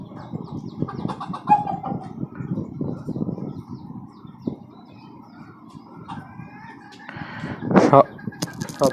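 Chickens and newly hatched chicks in a cage on a poultry farm cluck and peep in scattered bursts, with a brief sharper cry near the end, while a person talks throughout.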